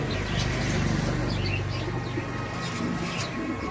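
Pigeons coo at a pigeon shop selling native pigeon breeds, with soft low murmuring calls close by, partly buried under a steady, loud wash of background noise.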